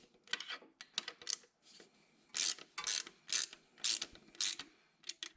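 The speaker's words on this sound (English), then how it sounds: "You can see I got my ratchet. This one's a 9/16, and we're gonna tighten it in." Bursts of quick ratcheting from a 9/16 ratchet tightening bolts on a Jeep/Dodge T355 manual transmission during a bearing replacement, several short clicking runs in succession with pauses between, close and fairly quiet.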